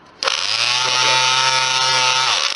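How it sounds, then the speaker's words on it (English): An electric sander fitted with light sanding paper starts abruptly and runs at a steady, loud, continuous whine for a couple of seconds, then begins to wind down at the end. "I'm going to try using this electric sander with a sort of light sanding paper on it"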